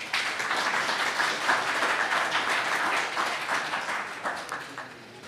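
An audience at the PyCon JP 2022 Python conference applauds to welcome a speaker, a full, crisp burst of many hands clapping that gradually thins and fades toward the end.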